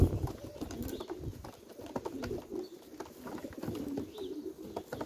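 Racing pigeons from Fineke and Gockel lines cooing steadily in a loft, soft low murmuring calls layered and continuous, with occasional faint chirps and wing flutters nearby.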